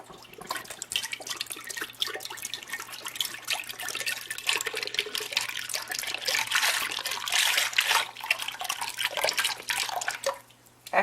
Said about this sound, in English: I've got one of my beef broth here. I'm going to pour into my slow cooker.